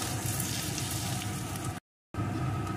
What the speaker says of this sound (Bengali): এখন আরো 2 মিনিট ভেজে নেব যাতে পোস্তটাও ভাজা ভাজা হয়ে আসে